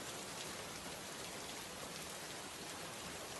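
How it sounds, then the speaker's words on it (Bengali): Heavy rain pours down in a cartoon village scene, a dense, even hiss of drops that holds steady throughout with no voices. "সারা দিন একরকম বৃষ্টি হয়ে আসছে"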